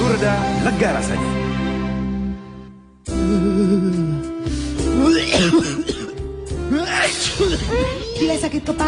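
Coughing and throat clearing in an Indonesian flu-medicine television advertisement from 2010, with short bursts set over music and voices, broken by a brief drop to near silence before the jingle and talk resume.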